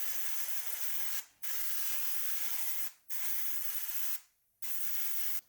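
Acrylic primer sprayed through a 0.3mm airbrush at slightly higher pressure, four steady hissing bursts separated by short pauses, close and clear with no talking.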